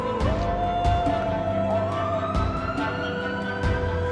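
An ambulance siren wails, rising and falling continuously over loud, steady traffic rumble, with some sharp knocks and clatter mixed in.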